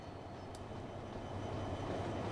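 A Class 158 passenger train passes on a coastal line in Transport Fever 2, a steady rumbling rail roll with a brief faint high chirp early on.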